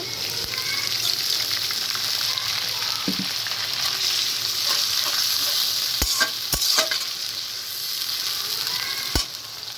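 Onions fry in a pan and are stirred, giving a continuous loud sizzle with sharp scraping clicks from the stirring at irregular moments, close by and with no talk.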